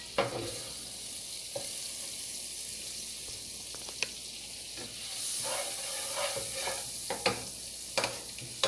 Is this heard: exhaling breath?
no